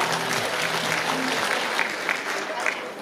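A crowd at a Pocheon civic festival celebrating the Dobongsan–Pocheon rail line bursts into sustained, dense applause, steady and loud throughout with faint voices mixed in.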